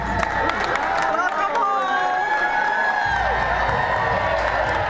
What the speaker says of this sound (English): they emerged to what might have been the biggest crowd in airport history, hailing them all as heroes